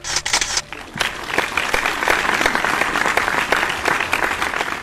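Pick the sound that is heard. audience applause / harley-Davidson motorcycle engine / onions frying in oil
audience applause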